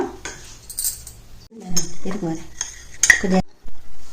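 Spoon clinking and scraping against a bowl as homemade hair dye is mixed with coconut oil, a few bright metallic clinks and rubbing strokes up close with brief gaps.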